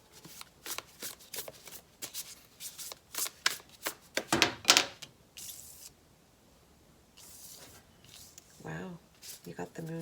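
Guardian Angel Messages tarot cards shuffled in a run of quick, crisp riffling bursts, loud and close, with short pauses between and a brief spoken moment toward the end.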